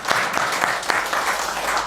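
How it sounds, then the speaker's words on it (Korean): Congregation applause during a Korean church Sunday service, a steady wash of many hands clapping together with a few louder individual claps, continuous and fairly loud for the whole stretch. "주님께 영광의 박수를 드려요."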